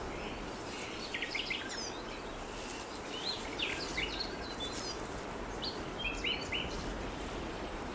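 Birds feeding in rowan trees on an autumn mountainside give scattered high chirps and tweets amid soft wing flutters over a steady outdoor hiss, faint and somewhat distant.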